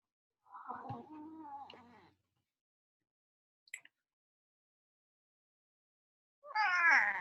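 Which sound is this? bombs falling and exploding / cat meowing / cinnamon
cat meowing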